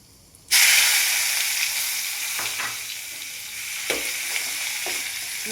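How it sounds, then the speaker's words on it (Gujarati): Onion and asafoetida hit hot oil with a sudden loud sizzle that settles into a continuous frying hiss, broken by a few soft stirring knocks close by. "હવે આપણે 1 ચમચી હિંગ એડ કરી ડુંગળીને એડ કરીશું."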